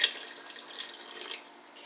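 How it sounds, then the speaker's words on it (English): Water pours steadily into a cooking pot indoors, a soft continuous splashing stream that starts with a brief brighter splash and then runs evenly before tapering slightly, close by and alone without any talk. "I might go ahead and pour some water in it so that it's deeper"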